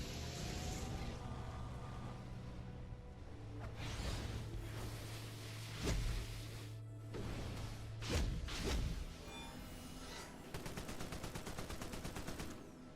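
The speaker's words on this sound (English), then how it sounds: "we're going to try our orbital strike against an evil Yellow Lantern" Green Lantern orbital strike fired at an evil Yellow Lantern NPC in the DC Universe Online video game, a run of loud booming blasts and whooshes ending in a rapid crackling barrage, with no talk over it.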